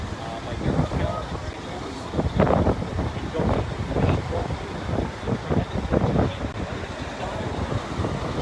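Gusty outdoor wind buffets the microphone in a steady low rumble with surges, at a Providence Columbus statue removal, with crowd noise and voices mixed beneath.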